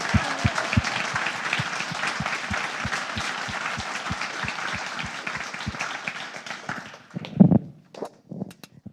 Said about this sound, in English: So please give a round of applause to Anita and Alex.